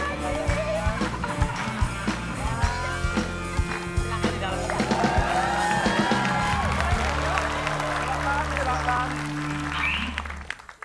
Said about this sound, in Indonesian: Tepuk tangan buat Mbak ini.